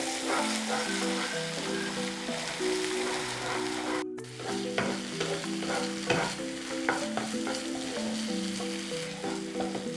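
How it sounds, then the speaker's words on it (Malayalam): Mangalorean fish masala for surmai fry is sautéed on a low flame, with frequent spatula scrapes and stirring clatter over a soft, constant sizzle and a brief break midway. "ഏതാണ്ട് 3 മിനിറ്റോളം ഞാനിത് ലോ ഫ്ലെയിമിൽ സോട്ട് ചെയ്തിട്ടുണ്ട്."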